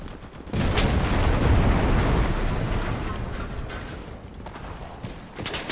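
Battlefield gunfire and artillery in the video game Enlisted rise after a brief lull into a loud, sustained roar of overlapping shots and booms, easing off slightly before flaring again near the end.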